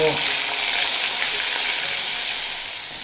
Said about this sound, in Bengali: তেল ভালো মতো গরম হয়ে গেলে আলুগুলো দিয়ে খুব ভালোভাবে ভেজে নেব